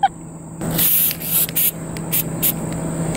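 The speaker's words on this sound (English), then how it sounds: "The issue with the aerosol types of sealant is mainly they bubble" Aerosol sealant sprays from a can in several bursts: one long hissing spray, then shorter spurts, close and fairly loud, with no talking.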